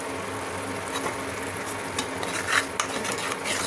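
Spiced masala with turmeric, salt and a little sugar for eggplant bharta being stirred and sautéed in a pan, a steady soft sizzle with scraping stirs, close and continuous.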